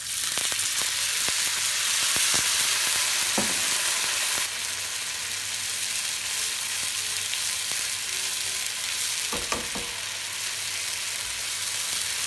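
Spices sauté in a pan before tamarind pulp goes in, giving a steady loud close sizzle with occasional light stirring clicks and no talk.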